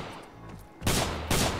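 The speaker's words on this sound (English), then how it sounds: "Where's that gunfire?" Two sharp bursts of gunfire in the video game Arma 3, Vietnam setting, close and loud, separated by a short gap after a quiet lead-in.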